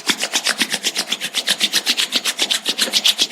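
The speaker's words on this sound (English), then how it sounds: "let's generate some energy between our palms by rubbing our hands against each other" Palms rubbing briskly against each other in a steady back-and-forth rhythm, about seven strokes per second, a close, dry rasping swish with no talk.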